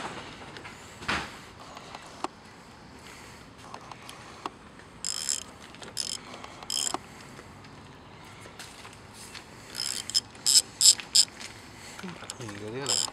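Ratchet wrench fitted with a 14 mm socket backing out starter bolts, a series of short, sharp clicking bursts, clustered toward the end, close by over a quiet workshop background.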